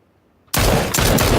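Sudden loud burst of rapid gunfire in a PUBG tournament match at Pochinki, starting after a half-second of silence and continuing as a dense, close volley.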